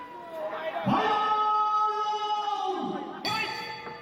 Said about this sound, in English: Bell goes, touch gloves.